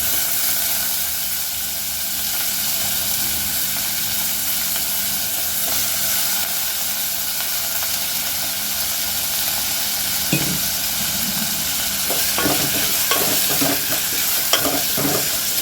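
Soaked lentils frying with onion and curry leaves in a pan, a loud steady sizzling hiss throughout, with stirring scrapes and clinks growing busier toward the end; no voices.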